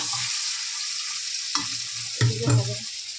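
Cardamom pods and cloves drop into hot oil and sizzle, a steady frying hiss with a few louder crackling bursts toward the end as the spices spit.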